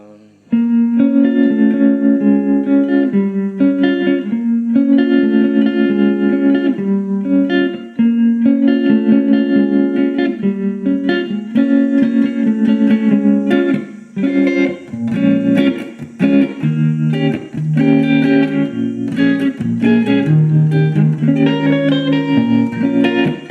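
Electric guitar through a JK Pedals Baby Doll Deluxe tremolo set to a sine wave with added boost and grit, playing a loud, sustained melodic phrase with smooth pulsing volume and distorted edge.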